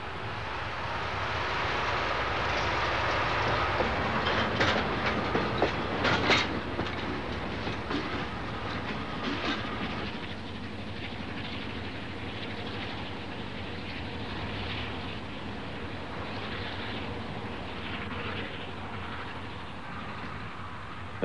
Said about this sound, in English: the Baddo brake van and its loco, which waste no time heading off to the mystery town of Maryborough.